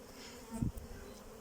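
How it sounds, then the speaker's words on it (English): Honey bees buzz faintly inside a hive super, a soft steady drone with a brief louder swell, heard up close and without talk. "we've got bees already up here"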